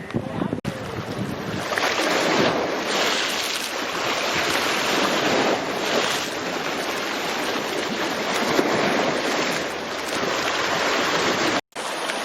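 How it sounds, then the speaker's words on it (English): Indian Ocean waves near a sluice gate linking Keerimalai Pond to the sea in Sri Lanka, a continuous surging wash of surf mixed with heavy wind rumble on the microphone, loud and unbroken apart from a brief cut. "This is the connection to the Kirimalai Pond of the Indian Ocean."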